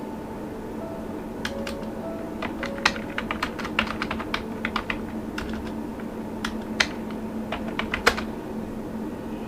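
Computer keyboard keys tapped in quick, irregular bursts while text is entered in Microsoft Word, crisp close clicks over a steady low room hum, with no talking.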